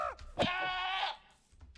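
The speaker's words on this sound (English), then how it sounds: "Goat." A goat in the Minecraft modpack FTB Skies Expert gives a single clear, close bleat lasting under a second, with quiet background afterward.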